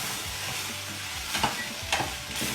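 A frying mixture sizzles in a pan while a spoon stirs it, a continuous hiss broken by a few short scraping strokes.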